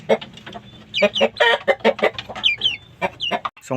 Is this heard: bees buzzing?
no